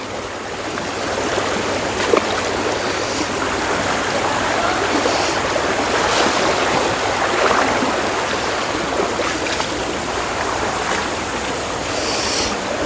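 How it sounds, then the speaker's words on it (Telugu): Fast-flowing hill stream water rushing through a forest creek near the Karre hills by the Bijapur forests, a loud, steady, close broadband roar without pause. "చాలా స్పీడ్గా వస్తుంది వాటర్ కూడా అంటే గుట్టల నుంచి వచ్చే వాటర్ కాబట్టి"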